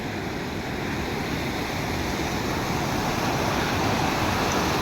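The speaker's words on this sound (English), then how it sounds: "And this river is coming from the Brendra Lake." Mountain river on the Manaslu trek, flowing beneath a wooden bridge and fed from a glacial lake, a loud, steady rushing roar of water that fills the whole stretch without pause.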